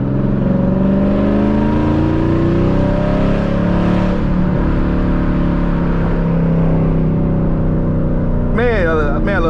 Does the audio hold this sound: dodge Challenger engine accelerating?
yes